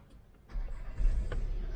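A 2021 VW T-Roc fires up via push-button keyless start, a short quiet lead-in giving way to a low engine catch and steady idle rumble, close and alone with no talk.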